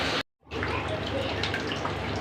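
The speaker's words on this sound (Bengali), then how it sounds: "মশলার সাথে অল্প পানি দিয়ে সুন্দর করে কষিয়ে" A little water is poured into masala with eggplant frying in a pan, setting off a loud, steady wet sizzle that follows a brief cut to silence and runs on unbroken.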